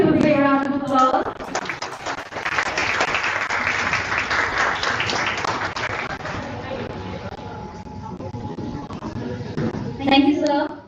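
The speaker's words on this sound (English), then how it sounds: "Please give a big round of applause." An audience claps steadily at a seminar book presentation, with a voice speaking over the applause at the start and end.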